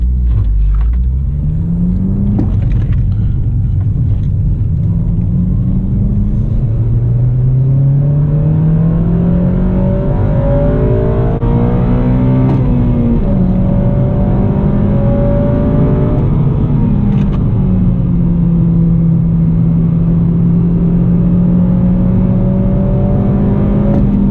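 A car drives uphill while the engine pulls and revs, its pitch climbing and dropping through the gears; a loud, steady interior drone with no talking.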